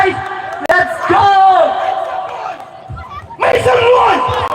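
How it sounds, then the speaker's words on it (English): A loud crowd roars and whoops, with shouting voices, a sharp slap or bang near the start, and a second surge of cheering near the end. "Let's give a round of applause for Alec Paul, the host and MC of tonight."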